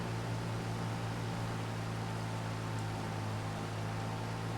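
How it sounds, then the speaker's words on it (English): Rain falls in Farming Simulator 25 as a dense, steady hiss that holds at an even level throughout, with no talk and no thunder. "Oh, here comes the rain."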